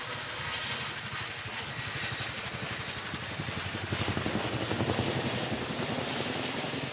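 A Chinook tandem-rotor helicopter at the Farnborough International Airshow 2024 comes down to land, its rotors throbbing in a steady rapid pulse over a broad engine roar that grows louder and more insistent near the end.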